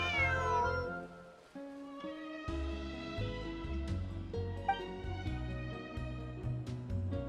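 A missing cat in Genshin Impact gives a long, clear meow, followed by softer mews over light background music, close and fairly loud.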